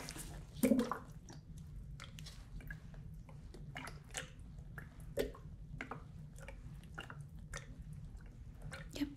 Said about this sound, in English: It is water.